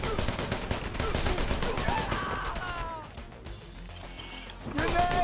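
Pistol gunfire in the video game Wanted: Dead, a dense flurry of sharp shots and impacts that thins out midway before picking up again, with voices over the action.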